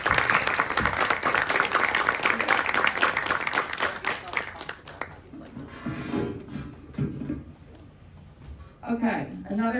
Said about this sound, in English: we are going to ask you to give a round of applause to the candidates as they come to the podium